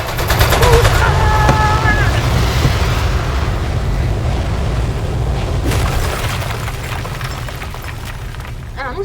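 Heavy machine-gun fire and booming blasts in the game Aperture Desk Job, a loud continuous barrage with deep rumble and repeated bursts running through the whole stretch, with a voice faintly underneath.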